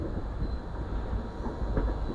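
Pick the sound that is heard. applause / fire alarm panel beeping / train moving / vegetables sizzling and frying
train moving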